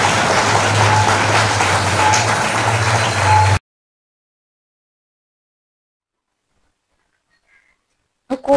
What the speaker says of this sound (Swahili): Piga makofi tafadhali.